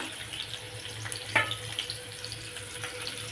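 Onions, carrots and green chillies frying in a pan for a vegetable korma give a soft, steady sizzle with faint watery crackle and one brief clink, fairly quiet and close, with no talking.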